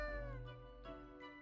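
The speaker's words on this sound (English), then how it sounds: "This cat is an asshole" A cartoonish cat in the video game Death and Taxes gives two or three drawn-out, close meows with a harmonic, whiny tone, each rising and then trailing off, with no voices over them.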